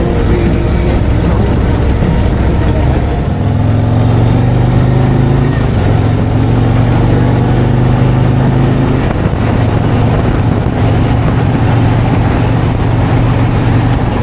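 Steady, loud wind rush and low engine drone from a motorcycle riding down a street behind a newly installed Klock Works windshield, continuous throughout with a slight shift in engine note partway.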